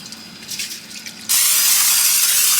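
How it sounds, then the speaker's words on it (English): A can of oil nonstick cooking spray sends a sudden, loud, steady hiss onto a pan. It cuts in after a moment of quiet kitchen noise and holds evenly to the end. "I do hit mine with a little bit of nonstick spray."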